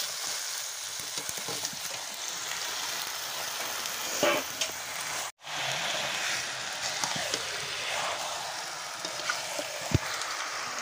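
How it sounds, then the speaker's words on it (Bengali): Kadaknath chicken meat sizzles and fries in hot spiced oil, giving a steady, close hiss with occasional stirring scrapes and a brief pause partway through. "এবার আমি মাংসটা ঢেলে দেব"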